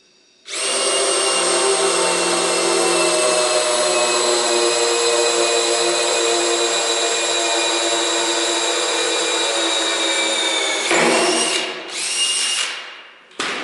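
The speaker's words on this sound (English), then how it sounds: "Drill out your hole." A power drill boring a hole in a plastic base plate whines loudly and steadily for about ten seconds, then stops, followed by a couple of short bursts as it spins back up.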